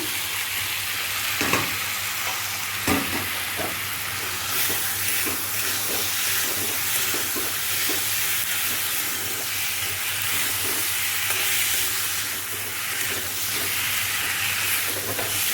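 Boiled potatoes stirred into spiced oil in a hot pan, with a steady loud sizzle and frying hiss throughout and occasional scrapes and clinks of the spoon.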